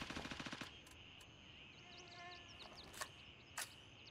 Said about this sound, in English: You hear all those shots?